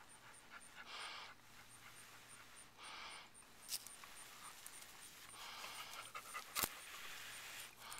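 Dog panting close by in an outdoor setting, a quick steady run of breathy huffs that comes in bursts with short pauses, with a faint high whine running underneath.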